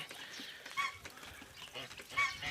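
Domestic geese honk in a few short bursts alongside ducks on a muddy, waterlogged farmyard, moderately close with light background noise.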